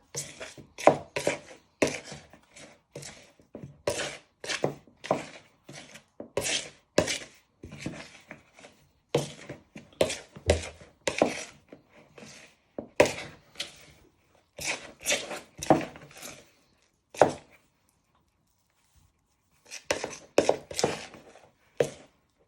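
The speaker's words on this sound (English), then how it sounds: "And with your knife, you want to start binding it together." A knife works a food mixture for Indian starters on a board, a series of close soft chopping and scraping strokes in irregular bursts with brief pauses, quiet in between.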